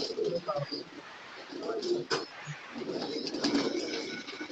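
Red Surkha pigeons in Karachi coo softly and repeatedly, their low calls running beneath people talking nearby.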